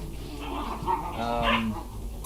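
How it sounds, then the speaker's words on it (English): Several puppies bark, yip and whimper close by in a busy, overlapping stretch, with squeaky high cries peaking near the middle. "puppies sound like Tasmanian devils"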